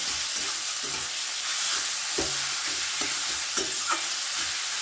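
Chicken mince is mixed with onions in a hot pan for an egg chicken roll, with rhythmic spatula scrapes over a loud, continuous close-up sizzle and a few brief clinks.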